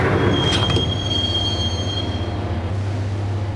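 Subway train ride in the video game Max Payne, heading toward Roscoe Street Station: a steady, loud rumble of wheels on rails with a high metallic squeal that fades away, and no talking.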